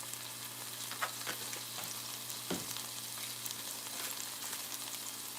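Vegetables sauté quietly in a pan while spices go in, a soft continuous sizzle with occasional scrape and tap of a utensil, no talking.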